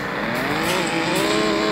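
Car engine in a video game revving steadily at close range, with a continuous whine that shifts pitch throughout, after the car has crashed and lost a wheel; no one talks.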